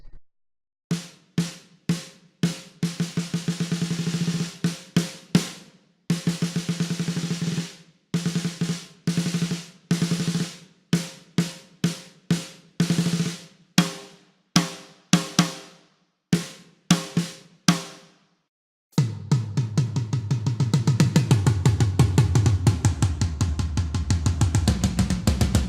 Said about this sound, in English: I'm using Addictive Drums 2, and the samples sound like this